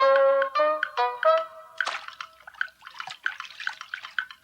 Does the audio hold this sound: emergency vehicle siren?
no